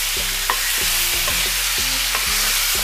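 Pork ribs stir-fry with aromatics in a hot pan, a loud close sizzle broken by rhythmic scraping strokes of a utensil roughly every half second, with no speech.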